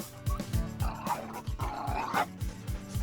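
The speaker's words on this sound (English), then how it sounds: "Dogs that constantly bark, snap and snarl, cause havoc wherever they go" Several dogs bark repeatedly in short, loud bursts with some yips and whimpers mixed in, close by and continuous over a noisy, lively background.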